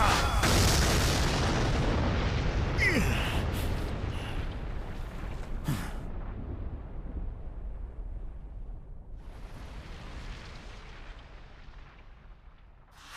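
A big cartoonish explosion booms loudly, then rumbles and fades into a long, crackling tail, with a smaller burst of noise later.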